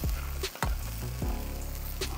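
Day-old cooked rice hitting hot avocado oil in a pan, a steady close sizzle and frying crackle running throughout with a few brief stirring scrapes.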